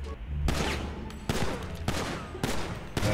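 Loud gunshots in the GTA 5 video game, fired at irregular intervals, about five sharp broadband cracks with short ringing tails over steady background noise.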